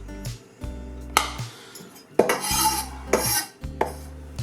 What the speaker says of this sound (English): And then we're going to grate up some onion.